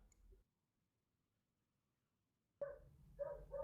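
A pet dog barks at something outside, starting after a near-silent pause with a burst of loud, close barks in quick succession.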